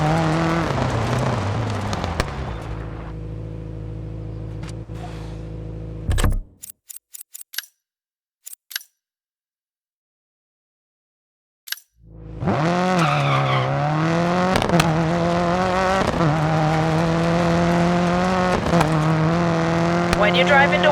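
A rally car engine in the game Dirt 4 drives toward a jump, roaring loudly with shifting revs. It drops to near silence for several seconds broken by a few sharp clicks, then the engine surges back strongly.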